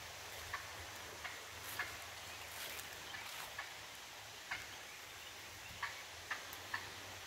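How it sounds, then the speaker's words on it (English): A wild turkey gobbles faintly from a roost in the woods, several short distant calls spaced across a quiet outdoor background. "we got a little turkey action. Hear him?"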